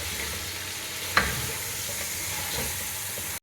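Chicken pieces stirred and sautéed in a hot pan for a desi tinda chicken curry, a steady sizzle with a sharp scrape of the spoon partway through and a soft clatter near the end.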